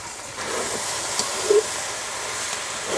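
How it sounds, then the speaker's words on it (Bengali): Steam hisses softly from a pan of frying okra as the lid is lifted, a steady, low airy wash with a faint clink of the lid partway through. "আমরা অল্প কিছু সময় জাল দিয়ে ঢাকনাটি এখন তুলব।"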